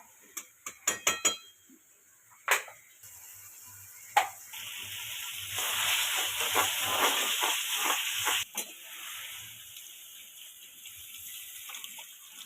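Water poured into hot frying masala for chilli mushroom sets off a loud, sustained sizzling hiss near at hand, coming after a few sharp clinks of utensils and tapering slowly toward the end.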